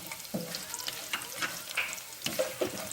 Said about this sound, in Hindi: हल्का सा इसको सौते करना है